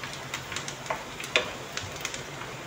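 Garlic sizzles softly in a pan while being stirred, with faint crackles and light scraping ticks of the spoon against the metal, close and quiet.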